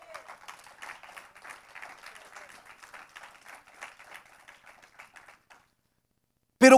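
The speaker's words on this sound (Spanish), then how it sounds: "Yo a eso le doy un aplauso" A church congregation applauds, a thin, somewhat distant patter of clapping hands lasting around five seconds, then silence and a brief loud burst at the very end.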